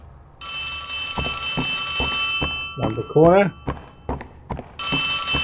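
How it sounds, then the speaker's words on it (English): Loud telephone in Poppy Playtime Chapter 3 rings with a harsh, sustained electronic tone that stops for a few seconds while a voice speaks over footsteps and thuds, then starts ringing again. "That's a loud ass phone."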